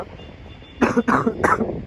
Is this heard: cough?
yes